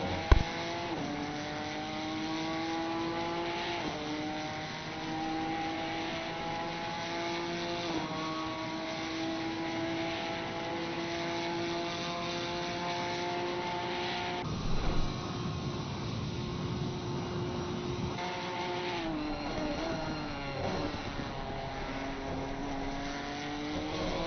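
A Ginetta race car engine revs through gear changes in a racing video game at Imola, a loud continuous engine note rising and dropping with shifts and braking, heard alone.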